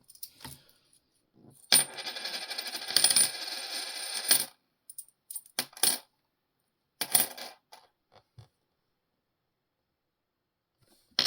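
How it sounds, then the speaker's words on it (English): US quarters handled and dropped on a hard surface, giving bursts of bright metallic clinks and jingles across several seconds, with quiet gaps and a few short separate clatters. "I'm going to scope these 5 quarters real quick."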